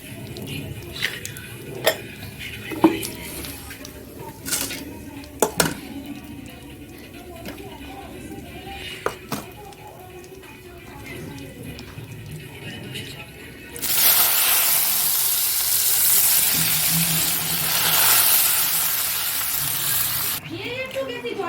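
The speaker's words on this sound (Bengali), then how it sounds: "ফোড়ন দিয়ে চালটা আর এটা দিয়ে দিয়েছি" Rice and lentils frying in a pan with cumin, bay leaf and dried chili: scattered clinks of utensils first, then a loud, steady sizzle that fills the final seconds.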